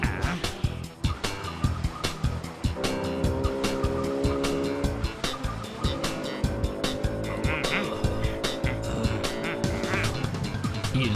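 A scooter races along in a cartoon chase, its engine revving with rising and falling tones amid repeated sharp percussive hits and skidding effects, loud and busy throughout.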